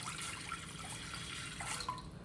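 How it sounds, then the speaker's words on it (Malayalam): A glass of water is poured over soaked sago to cook it for mango payasam, a soft, faint splashing pour with a few light drips. "ചവ്വരി കുക്ക് ചെയ്യാനായിട്ട് ഒരു ഗ്ലാസ് വെള്ളം ഒഴിച്ചു കൊടുക്കാം"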